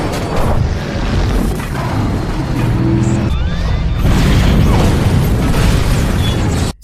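A bazooka blast strikes the Batmobile in The Dark Knight: a loud, dense explosive burst with crashing debris and mechanical clatter, sustained and heavy across the whole stretch before cutting off abruptly.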